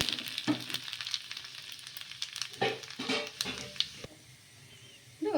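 Semiya breakfast batter frying in a little oil in a pan, a steady close sizzle with brief stirring or scraping sounds, fading slightly near the end.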